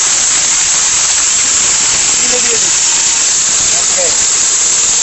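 A Havells blender runs continuously with a loud, even, high whirring hiss that stays unbroken for the whole stretch, close and dominant.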